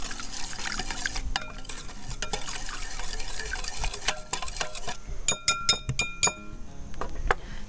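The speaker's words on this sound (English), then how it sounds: "We're gonna give that a little whisk." A whisk clatters steadily against a bowl holding smoked paprika, apple cider vinegar and chipotle sauce, with quick metallic clinks growing sharper toward the end, close up and with no talking.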